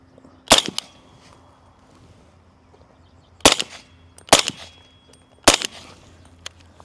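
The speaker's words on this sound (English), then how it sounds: "I think that was 4 shots." Four sharp rifle shots from a .300 Blackout rifle with an aftermarket trigger ring out at an outdoor range, fired at 25 yards, spaced irregularly across several seconds with quiet gaps between them.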